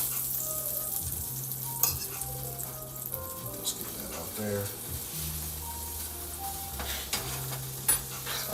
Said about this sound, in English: Keeping it at a good sizzle is very, very important.